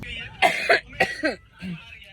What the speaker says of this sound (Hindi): बहुत ज्यादा खांसी हो रही है मुझे।